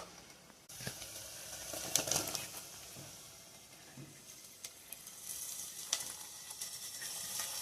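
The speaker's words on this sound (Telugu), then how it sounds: "మనం దొండకాయలు వేసుకుంటున్నానండి." Ivy gourds frying in a pan with onion, green chilli and curry leaves, a soft steady sizzle with occasional stirring clinks and scrapes, fairly quiet and close.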